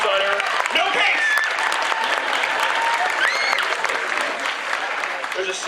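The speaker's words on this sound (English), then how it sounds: "Round of applause for The Incredibles." An audience claps and cheers at a cosplay contest at Forest City Comicon in London, Ontario, a loud, sustained round of applause filling the hall with a few shouts mixed in.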